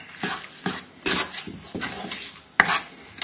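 A spoon stirs salted lentils in a pot, a series of soft scraping swirls with a sharper knock near the end, close and moderately loud, with no talk.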